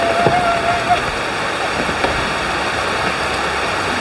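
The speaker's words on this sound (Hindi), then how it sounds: "तो देखिए कितनी तेज़ बारिश हो रही है।" Heavy monsoon rain pouring down in Goa during flooding, a dense, steady hiss of downpour drumming on surfaces without a break, loud and close throughout.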